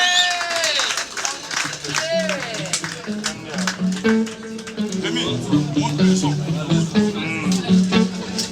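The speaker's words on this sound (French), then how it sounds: "Applaudissez pour vous-même s'il vous plaît" Concert crowd applauding on a boat in Paris, a dense spread of claps mixed with cheering voices and music, held steadily for several seconds.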